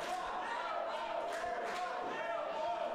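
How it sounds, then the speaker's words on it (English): A wrestling crowd chants rhythmically for the champion during a Christmas Chaos pro wrestling event, a sustained chorus of many voices echoing through the venue at moderate distance. "this crowd just continues to chant behind the champ"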